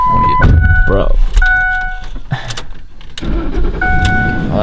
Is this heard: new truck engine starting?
yes